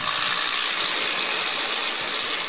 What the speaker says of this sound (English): And drill away.